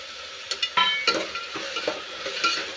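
A spoon stirs tomato and peanuts into a hot tempering in a pan, giving short scraping strokes and light clatter over a soft, steady sizzle, close and fairly quiet.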